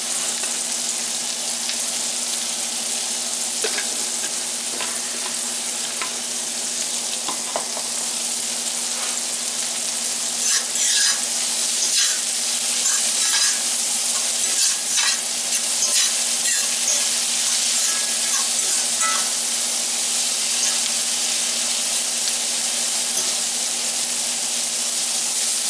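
Vegetables fry in a pan with a steady, close sizzle and occasional crackles and stirring scrapes, no talking throughout.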